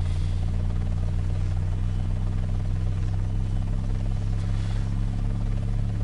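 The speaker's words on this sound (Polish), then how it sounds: "Wybuduję sobie jeszcze jeden śmigłowiec dla mnie co najmniej." A helicopter in the video game Hostile Waters keeps up a steady, loud rotor drone and buzz from start to finish, with no talk over it.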